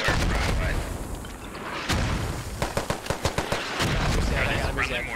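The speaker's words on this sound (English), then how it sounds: "Are these friendly mortars or not?" Enemy mortar rounds in a squad-based shooter land amid dense gunfire, with a heavy blast followed by a rapid string of sharp cracks and booms, while voices talk over the chaos.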